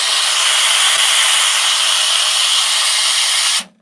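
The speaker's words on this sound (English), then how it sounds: "So steam, they're using the lever instead of the knob." Steam wand on a Turin Gallatin HX espresso machine, operated by lever rather than knob, gives a loud, steady broadband hiss that runs unbroken for over three seconds, then cuts off abruptly.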